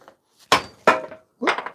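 A hammer strikes a steel axe head down onto its wooden handle: three sharp, ringing blows spaced about a third of a second apart, close and loud, after a faint tap.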